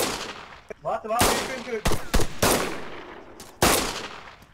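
Loud, sharp gunshots ring out with a hall-like echo in the video game Altis Life, several irregular bursts separated by brief gaps, with a player's voice speaking between them.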